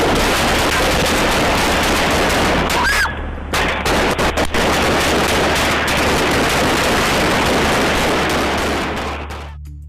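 AK-47 rifle fire and police gunfire during a roadside shootout with the suspect shooting into a patrol car windshield: dense, loud, rapid shots running almost continuously, with a brief thinning of the barrage early on.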